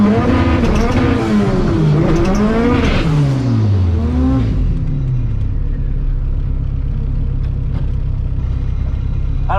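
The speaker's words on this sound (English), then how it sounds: "Hopefully that burnout was enough." Drag race car launching off the line after a burnout, a loud engine roaring with rising then falling harmonics over the first four seconds, settling into a steady rumble and exhaust drone that continues to the end.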